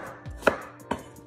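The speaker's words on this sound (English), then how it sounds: "go ahead, continue chopping everything up" Two crisp knife strokes cut through broccoli and cauliflower on a cutting board, close and sharp with a brief pause between them.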